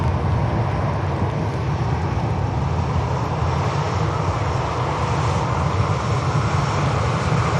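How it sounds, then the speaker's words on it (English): Qatar Airways Airbus A350 at Manchester Airport, a steady, broad jet engine roar heard from a distance, continuous and unchanging with no talk over it. "hot footing behind is the other Qatar aircraft, the 350,"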